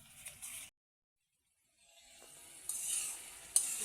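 Mutton curry masala, simmered with a little water, sizzles and is stirred in a pan: soft hissing and scraping cut off by a second of silence, then returning louder with a sharp utensil scrape near the end.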